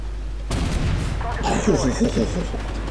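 A tank cannon fires once in the video game Armored Warfare, a heavy close boom that rolls into a rumbling tail while someone speaks over it.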